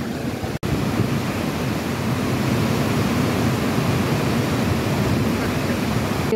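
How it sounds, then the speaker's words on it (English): A waterfall seen from a mountain bike trail at about 8,000 feet gives a steady, loud, broadband rush of falling water that continues unbroken except for a brief dropout near the start. "Look, there's a waterfall."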